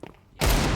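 A single sudden, loud gunshot cracks out of a quiet moment in a Counter-Strike 2 esports match on the Mirage map, then rings on briefly.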